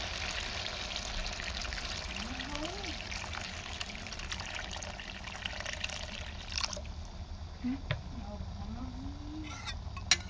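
Water pours into a pot of browned meat cooking in a village kitchen, a steady hiss and trickle that continues throughout, while a faint voice can be heard in the background.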